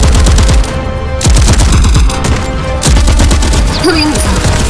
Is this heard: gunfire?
yes